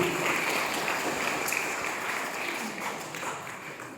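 Students in a college auditorium applaud a talk, a broad even wash of clapping heard from a distance, moderately loud and sustained throughout.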